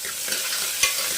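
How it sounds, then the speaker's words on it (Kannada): Chopped onion frying in a pan with mustard seeds, cumin and curry leaves, a dense steady sizzle with a couple of soft stirring scrapes, close and alone. "ಈರುಳ್ಳಿನ ಸ್ವಲ್ಪ ಫ್ರೈ ಮಾಡ್ಕೊಳ್ಳೋಣ"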